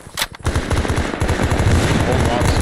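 Rapid enemy machine-gun fire in the Vietnam War game SOG: Prairie Fire, loud and close, with a sharp initial shot followed by a sustained, rattling automatic burst.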